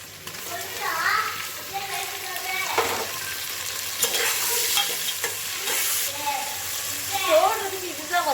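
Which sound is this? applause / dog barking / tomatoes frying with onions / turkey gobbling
tomatoes frying with onions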